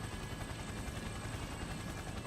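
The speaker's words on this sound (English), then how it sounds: "Koromaru and Yukari-san drop out of the helicopter and nimbly land on the roof" Helicopter rotor noise from the Persona 4 Arena Ultimax game, a faint, steady broadband whir and throb with no talk over it.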